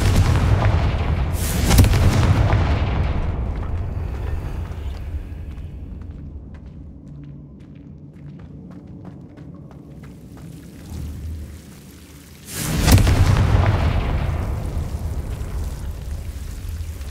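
Two booming blasts from the Confringo fire spell in the Hogwarts Legacy video game on PS5, one near the start and one near the end, each a loud broad burst with a rumbling tail and a quieter stretch between.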